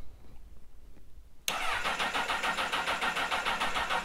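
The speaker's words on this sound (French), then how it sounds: "Vous réalisez un démarrage de la moto." A quiet hum gives way to a motorcycle engine cranking and catching suddenly, then settling into a loud, steady, fast-pulsing idle.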